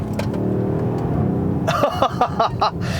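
A Mercedes-AMG GLC 63 launching hard: an engine drone climbs in pitch, then sharp rev spikes and gear-change bursts crackle loudly and close.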